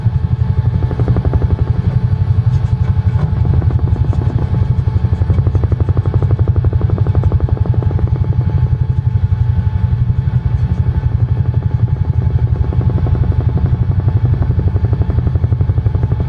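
A UH-1 helicopter in Microsoft Flight Simulator beats along in flight over Long Island toward Manhattan, a loud, steady low rotor thump with rapid regular blade pulses and engine whine running throughout.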